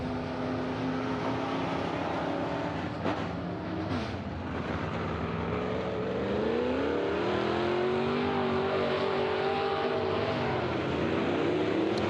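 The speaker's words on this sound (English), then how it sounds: "Mariflex 360 Modifieds coming at you right here." A pack of B-Mod modified race cars roars around a dirt track, engines revving loudly and continuously, with pitch rising and falling as the cars pass and accelerate, no speech over the racket.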